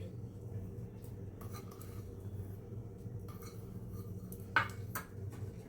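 Potato stuffing with onion and coriander is mixed in a bowl, producing faint, sparse spoon clinks and taps against a steady low background hum.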